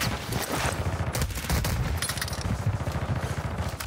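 Rapid bursts of automatic gunfire fill a video game firefight, dense and continuous with crackling shots layered close together throughout.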